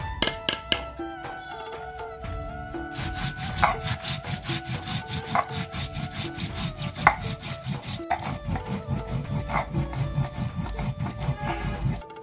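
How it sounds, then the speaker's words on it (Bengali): Cumin is ground by hand on a grinding stone, a steady rhythmic back-and-forth scraping and rubbing that continues close up for the whole stretch, with no talking. "বেটে নেব জিরা"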